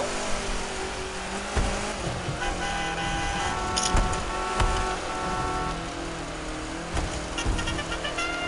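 A car drifting, with a broad, steady roar of engine and tyre noise that swells with a few sharp bursts over about eight seconds.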